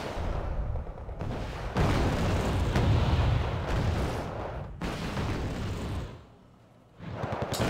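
Bomb strikes in the war strategy game Wargame: Red Dragon land as a series of heavy, rumbling explosions, several loud blasts rolling into one another, with a brief lull before another burst.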